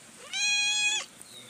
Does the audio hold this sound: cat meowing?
yes